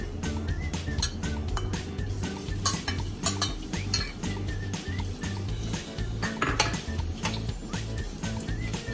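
Garlic going into hot oil in a pan for Filipino-style chicken curry, with a steady sizzle under frequent metal utensil clinks and scrapes against the pan.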